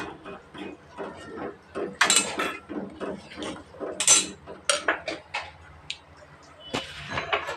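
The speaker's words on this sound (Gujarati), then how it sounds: "જાયફળ નાખી હવે આપણે હલાવી નાખીશું." Kheer being stirred in a pot just after nutmeg goes in, with repeated close scraping and clinking of a spoon against metal in irregular strokes, some louder knocks, no talking.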